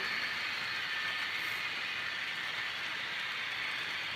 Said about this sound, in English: I love running long trains.